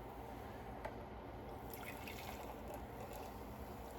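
Liquid pours steadily into a cup for warm, salty carnivore/keto fatty coffee, a soft continuous trickle with a faint splash partway through, close by and steady throughout.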